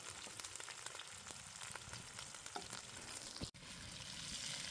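Bacon sizzles and spits steadily over an open campfire, a dense close crackle with scattered pops and one brief sharp break near the end.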